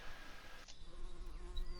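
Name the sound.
honey bees buzzing around a hive during harvest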